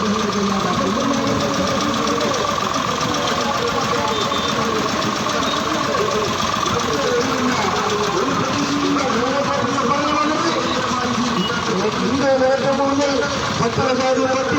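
Tractor engines idling and knocking during a tractor march through the streets of Palakkad, a dense, steady rumble with a loud voice speaking over it throughout.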